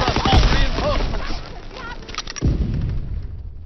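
Gunfire in a World War II game, a rapid cluster of loud shots with heavy booming impacts up close, a second burst following after a short lull, faint voices mixed in.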